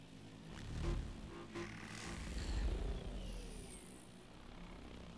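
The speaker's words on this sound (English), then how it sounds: "Drone." A drone flies past in Call of Duty: Advanced Warfare inside a bio lab, its engine hum swelling and fading over several seconds, fairly faint, with no talk.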